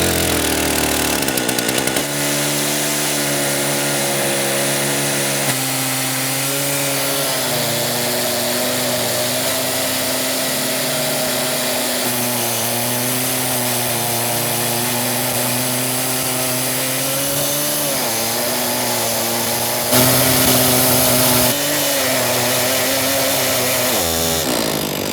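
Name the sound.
two chainsaws on one bar jig cutting a tree in half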